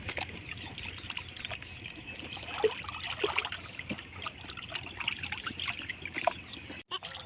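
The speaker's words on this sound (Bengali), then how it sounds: "এই মাছগুলো কিন্তু এমনিতে সুন্দর করে ধুতে হয়, তো ভালো করে ধুয়ে নিচ্ছে" Freshly caught large fish washed in water, with continuous trickling, splashing and sloshing close by and a soft steady wash of water throughout.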